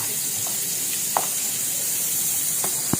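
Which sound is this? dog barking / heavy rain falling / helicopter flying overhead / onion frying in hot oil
onion frying in hot oil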